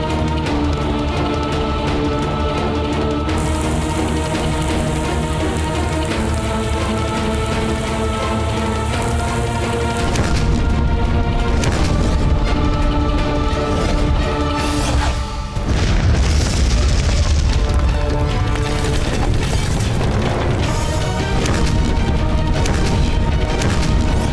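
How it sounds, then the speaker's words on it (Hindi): Cannon fire against the gates of Chittor fort in a Hindi historical TV serial about Maharana Pratap, heavy booming blasts over a sustained dramatic music score throughout, with a louder surge of explosions in the second half. "जब तक चित्तौड़ के किले के दरवाजे चूर चूर ना हो जाए, जब तक हम चित्तौड़ पर फतेह हासिल न कर लें, तब तक हमारी तोपों से आग बरसती रहनी चाहिए।"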